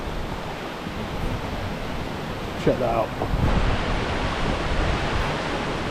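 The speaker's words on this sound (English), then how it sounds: "Little waterfalls at the top there." Rushing river water with small waterfalls tumbling near a bridge in the Scottish Highlands, a steady broadband roar throughout, with someone speaking briefly over it.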